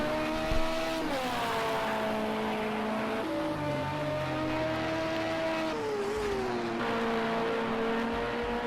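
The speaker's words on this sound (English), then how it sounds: "We can hear the different sound of that V6" V6 engine of an LMP2 prototype in a sim racing game, a steady close drone that shifts pitch with gear changes and throttle, stepping down and climbing again several times.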